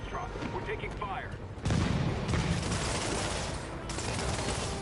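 Bursts of gunfire and heavy explosive impacts in the Marvel's Spider-Man video game, dense and loud, layered with game sound effects and a radio voice, with a louder barrage kicking in partway through.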